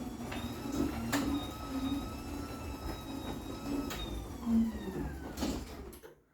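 Chamberlain B4603T opener driving an 18x7 CHI 2147 garage door with slightly loose rollers, a steady rumbling run with repeated creaks and squeaks, moderately close, ending with a stop near the end.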